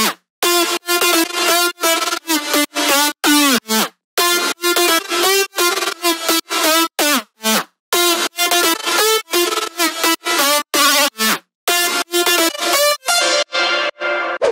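A future house lead synth with reverse reverb and a flickering volume effect plays a loud, choppy line of rapid stuttering notes, with brief gaps cutting the sound on and off.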